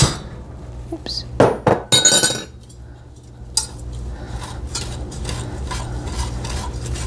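Brown sugar is stirred into melted butter in a bowl, with sharp clinks and scraping knocks of a utensil against the dish, loudest early on, then a softer continuous stirring rasp, close by with some talking.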